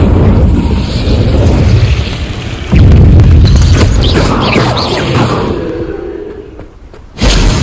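An Incendio fire spell cast in Hogwarts Legacy, giving loud roaring bursts of flame with booming, whooshing surges that build and fade, then a sudden blast near the end.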